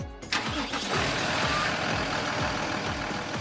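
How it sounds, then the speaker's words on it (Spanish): A diesel car engine cranks with rapid regular starter pulses, catches and settles into a steady, loud idle close by. "Encendemos el coche."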